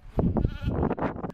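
Sheep and goats from a flock of about 4000 small livestock bleat during a tribal seasonal migration, several overlapping wavering bleats close by in a brief burst.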